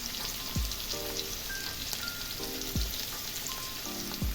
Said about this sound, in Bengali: আমি প্রমাণ সাইজের আলু কেটে কড়াইয়ে ভাজতে চাপিয়েও দিয়েছি